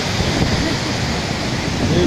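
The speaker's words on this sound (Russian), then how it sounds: "Сейчас покажи реку. Вот, вот река, вот так." A rushing mountain river beside a waterfall in Kabardino-Balkaria gives a loud, close, unbroken roar of churning water with no pause.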